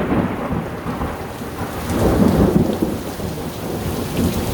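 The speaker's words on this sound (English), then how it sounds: "Not going to be installing it during a thunderstorm." A thunderstorm with heavy rain on a rainy day outdoors, dense steady rainfall hissing on surfaces under a low rumbling thunder roll that swells in the middle, loud and close, no voices.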